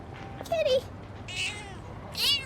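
A weak, hungry cat in Persona 3 Reload meows several times in quick succession, thin drawn-out cries with one louder final meow, heard over soft game background.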